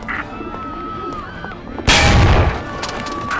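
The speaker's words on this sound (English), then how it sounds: "Reports of gunfire at the Turnbull rally." A sharp, loud gunshot bursts out with a booming tail at a political rally in the Mafia video game, following a stretch of low rumbling ambience with faint game effects.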